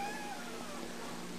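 A cat meows in a kitchen, a short rising cry near the start that fades into a steady background hiss and hum.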